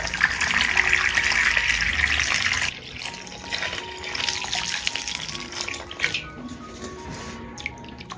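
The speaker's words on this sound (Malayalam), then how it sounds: "ഇനി ഇതിലേക്ക് ആവശ്യത്തിന് പച്ചവെള്ളം ഒഴിച്ച് നന്നായിട്ടൊന്ന് കഴുകിയെടുക്കാം." Ripe bananas are washed in a bowl of fresh water: steady running, splashing water dominates the opening seconds, then quieter sloshing, dripping and small knocks of fruit being rinsed, close by and with no talk.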